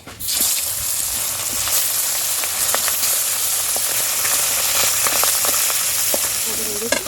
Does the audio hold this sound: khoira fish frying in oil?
yes